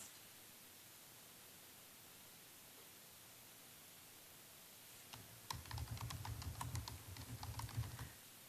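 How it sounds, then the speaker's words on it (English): Fast typing on a computer keyboard enters a council meeting search, a run of close, crisp keystrokes that starts partway through after a stretch of steady background hiss. "So I just typed in council meeting, and it'll take you right to the page."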